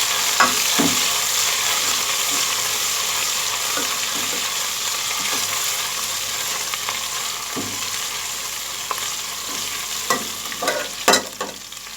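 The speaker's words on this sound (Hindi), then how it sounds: "अदरक लहसुन का पेस्ट डाल के हमने इसको प्याज के साथ फ्राई कर लिया" Ginger garlic paste fries with onions in a pan for a Delhi-style turnip, spinach and mutton dish, giving a steady loud sizzle throughout with occasional scraping stir strokes, no talking.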